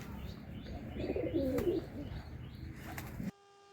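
Domestic pigeons coo softly in a coop, a low rolling call rising briefly near the middle, with faint chirps and a rustle of movement. It ends abruptly in near silence.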